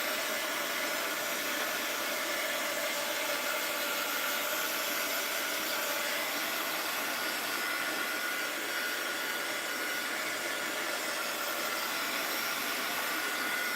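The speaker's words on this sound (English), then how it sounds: "Get my heat gun out." A heat gun blowing hot air to dry matte craft paint, a steady loud rushing whoosh held without a break throughout.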